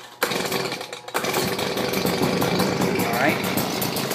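A Stihl BG55 leaf blower's small two-stroke engine catches after a brief start and settles into a loud, uneven idle close to the microphone, buzzing with a slightly unsteady pulse.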